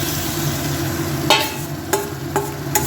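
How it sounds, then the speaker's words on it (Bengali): Marinated mutton is tipped into a pan of softened onions and sautéed, giving a steady close sizzle with several sharp scraping stirs of a spatula, and no voices. "এবার মাংসটা দিয়ে একটু কষবো এমনি ঢেলে দিয়ে কষছি আমি"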